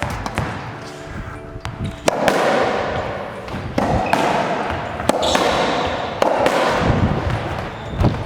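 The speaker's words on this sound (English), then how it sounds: "Great shot by Rob." Squash ball struck repeatedly during a rally on a squash court, giving sharp, loud impacts and wall thuds at irregular intervals of about one to two seconds, with court echo and no talk.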